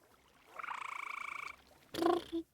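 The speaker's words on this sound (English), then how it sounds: "Sorry, the frog was making noises." A frog croaks in a video game: a steady pulsing croak for about a second, then a pause, then a louder burst of two short croaks near the end, with no talk.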